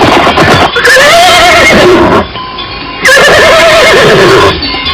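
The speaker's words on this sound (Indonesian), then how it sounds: "Mereka berkuda siang malam, sehingga akhirnya mereka tiba di Candi Jajahu." Horses whinnying loudly and close in two long calls, over a rough rush of hooves as they ride on, with no voices.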